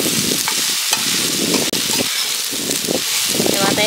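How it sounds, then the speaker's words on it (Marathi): Chopped ridge gourd being sautéed with softened onion and tomato in a pan, giving a loud, steady sizzle broken by repeated scraping stirs, with a voice talking over the frying. "कांदा टमॅटो बरोबर आपल्याला थोडंसं दोडका आहे ना असं परतून घेऊया"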